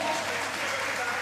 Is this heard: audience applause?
yes